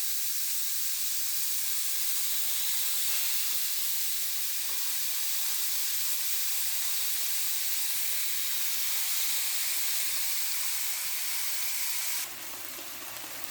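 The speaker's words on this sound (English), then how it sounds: "you can throw some water in there, and if it sizzles, it's up to temperature" Steady hissing sizzle of water hitting a hot pan, continuous and fairly loud throughout, dropping slightly near the end.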